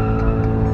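Drag racing video game car revving hard at full throttle, a loud, steady engine roar with a tyre squeal edge, close and continuous for under a second.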